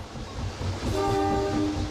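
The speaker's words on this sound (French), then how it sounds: "Le sifflet ne sert qu'en cas d'avertissement." A train horn sounds at a station stop on an Australian rail journey, a steady tonal blast that starts partway through and holds to the end over low rumbling rail noise.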